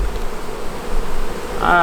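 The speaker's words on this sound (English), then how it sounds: "Wow, there are a lot of bees around this strip." A dense, steady buzz of honey bees around a hive with laying workers fills the air, swelling louder near the end as bees seem to fly close by.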